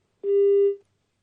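A single steady telephone tone sounds close and clear for about half a second, then cuts off into silence, as when a call fails to connect.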